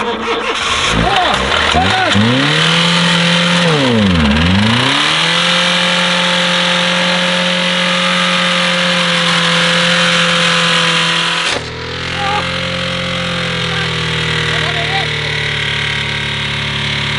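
A car engine revs up and down in strong sweeps, then settles into a steady, loud running drone with another brief rev near the end.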